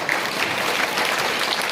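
An audience at a school fair claps in a short, dense burst of applause that stays loud and even throughout.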